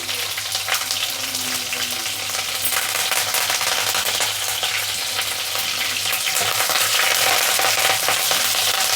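Onion pieces frying in a pan with curry leaves, a steady dense sizzle filling the space, loud and close, with no voices over it.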